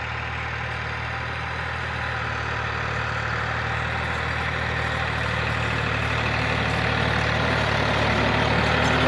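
A steady low engine idle of a 1975 Ford 4000 tractor chugs on evenly, close and continuous, growing slightly louder toward the end.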